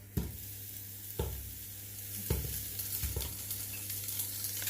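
Meatballs dropped one by one into a hot pan, each landing with a sharp burst of sizzle, four distinct hits over a continuous close frying hiss, no voices.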